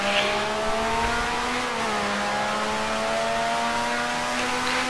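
A 1960s Grand Prix racing car engine in the Grand Prix Legends game, at Syracuse in 1965, revs loud and sustained with a steady high whine that dips briefly with a gear change and then climbs again, and no voice over it.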